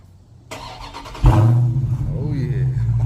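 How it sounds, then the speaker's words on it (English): A Dodge Hellcat V8 cranks briefly on a cold start, then fires up with a deep, loud rumble and settles into a rough idle, close by. "so let's do that cold start real quick."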